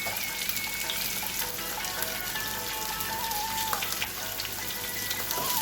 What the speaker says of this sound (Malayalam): ഇഞ്ചിയും പച്ചമുളകും വെളുത്തുള്ളിയും ആ എണ്ണയിൽ വഴറ്റുക